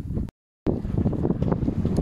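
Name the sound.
sailing kayak moving in light wind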